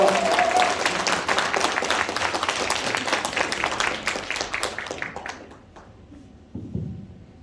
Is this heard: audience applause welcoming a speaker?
yes